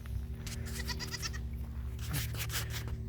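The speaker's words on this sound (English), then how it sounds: "Yeah, such happy goats." Dairy goats in an outdoor farm pen bleat repeatedly at close range, the wavering calls rising over a steady mechanical hum.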